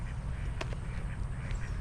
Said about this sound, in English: Wow, look at that. There's some ducks.